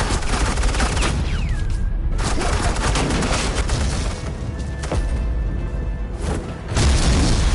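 Suppressing gunfire from Agent Quinn in Batman: The Telltale Series: loud, dense, continuous bursts of shots and booms filling the whole stretch, with no break.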